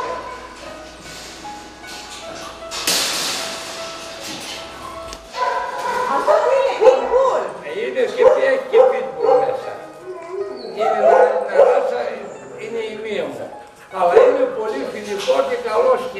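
Dogs at the municipal stray animal shelter of Kozani bark, yip and whimper in repeated bursts, some near and loud, mixed with people talking over them.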